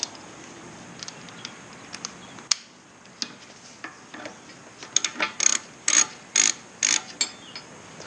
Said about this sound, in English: I'm going to tighten all these up